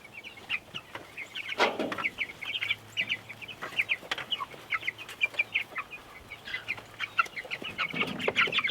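Cornish cross chickens cluck repeatedly outdoors on grass among baby farm animals, a steady chorus of short, close clucks and chirps running throughout with no talk.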